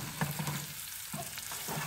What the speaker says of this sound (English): And the oil sizzles when you drop food in.